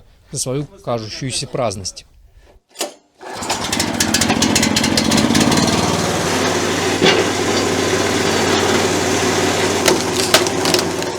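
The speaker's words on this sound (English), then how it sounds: "This wood splitter" A homemade wood splitter, assembled from scavenged parts in Narym, Siberia, starts up after a few seconds of talk, then runs as a loud, continuous engine drone with rough, crackling wood-splitting noise up close.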